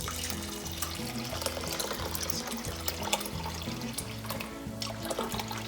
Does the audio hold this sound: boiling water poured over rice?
yes